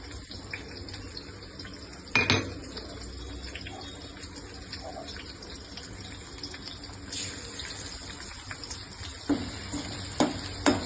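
Soft sizzling of crushed garlic frying in hot oil, with occasional stirring scrapes and a couple of louder clatters; no one speaks.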